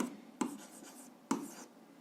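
A pen scrawls an algebra inequality on paper in two short bursts, each beginning with a crisp tap and trailing into soft scratching, recorded up close in a quiet room.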